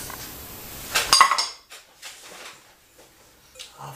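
Puff pastry ingredients being mixed in a bowl: a sharp clatter of utensil against the bowl, then softer scraping and mixing sounds, close and brief.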